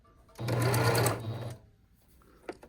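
A Singer Stylist 2 model 5625 sewing machine stitches in reverse, giving a loud, close whirring run of about a second that then stops, followed by a few soft clicks.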